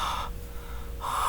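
A voice imitates a breathy HA sound, a close, forceful exhaled rush that dips briefly in the middle and surges again at the end.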